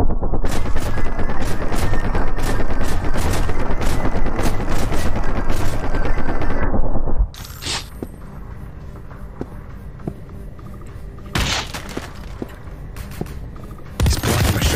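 Loud gunshots in El Paso Elsewhere, a dense barrage of rapid shots for about seven seconds, then quieter scattered single shots with a few sharp bursts near the end.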